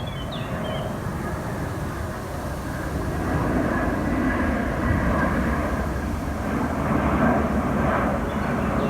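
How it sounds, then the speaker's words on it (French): A Japan Airlines airliner flying over near a railway spot at Compans, its broad steady engine roar rising a little midway and holding loud and continuous with no talk. "Ah bah tiens, un avion Japan Airlines."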